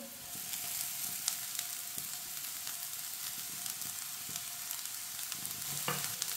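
Two grated carrots cooking in a hot, sizzling pan give a dense, steady frying hiss that runs throughout, with occasional soft clicks and scrapes of stirring close by.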